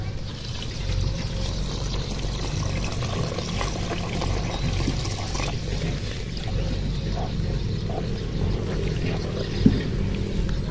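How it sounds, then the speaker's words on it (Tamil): Water pouring steadily into a simmering pot of egg curry, a continuous low gurgling wash with a brief clink near the end. "தேவையான அளவுக்கு தண்ணி ஊற்றிக்கலாம்"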